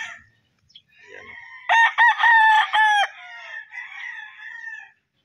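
Bull stag gamefowl roosters crow on a gamefowl farm. One loud, close cock-a-doodle-doo rises mid-clip with strong harmonic calls, framed by fainter clucks and softer bird calls before and after.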